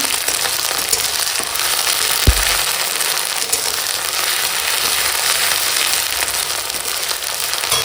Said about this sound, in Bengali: এখন দিয়ে দিচ্ছি আদা রসুন জিরে একসঙ্গে বাটা